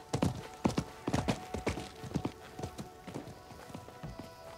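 Horse hooves clip-clop at a steady walking pace in the Diablo 4 video game, a quick run of clear hoofbeats that fades slightly toward the end, alone with no speech.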